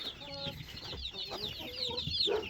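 Chicks in a chick house, with soft overlapping peeping and chirping from several birds close by, plus light clucking underneath and no talk.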